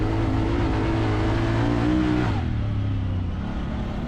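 A 2020 Honda Talon 1000R side-by-side runs at speed across sand dunes, its engine droning loudly and steadily with a strong low-pitched tone that holds, then dips as the revs drop partway through.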